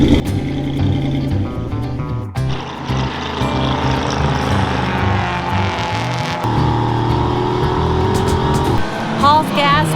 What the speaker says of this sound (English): The car's still running,